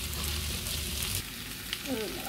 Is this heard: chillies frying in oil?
yes